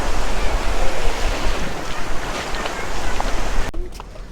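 Waves wash steadily onto the beach at S'Illot, Mallorca, a loud, continuous surf hiss mixed with heavy wind buffeting the microphone, cutting off abruptly near the end.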